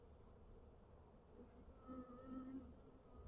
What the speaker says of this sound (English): Still covered with bees.